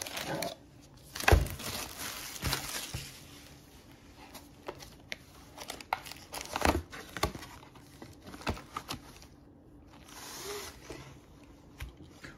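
Pokémon Battle Styles Elite Trainer Box packaging being opened, with crinkling wrapper, papery rustles and scattered handling taps throughout, moderately close with no talking.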